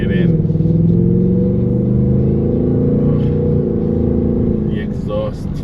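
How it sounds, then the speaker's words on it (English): Deep, rumbling exhaust of a nearly new 2024 Ford Mustang GT Premium V8 heard from inside while driving, a steady low drone that holds loud throughout with a slight dip near the end. "The exhaust, my God."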